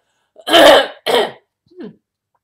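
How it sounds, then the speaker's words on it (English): A person clears their throat in two harsh bursts, followed by a softer short vocal grunt, close and alone in silence. "clear my throat"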